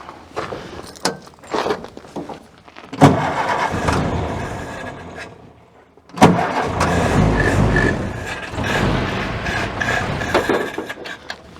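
A carburettor engine with its air cleaner removed is cranked and caught, bursting into a rough, surging run, cutting out briefly, then restarting and running unevenly at close range.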